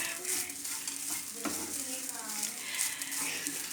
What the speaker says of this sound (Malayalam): അപ്പോൾ നമുക്ക് ഈ തേങ്ങ നന്നായിട്ട് വറുത്തെടുക്കാം.